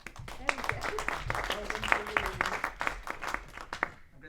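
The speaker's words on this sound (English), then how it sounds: "Round of applause" Audience at a student-led lecture series gives a round of applause as a speaker takes the stage, a patter of scattered individual claps from a modest crowd, with voices talking over it near the end.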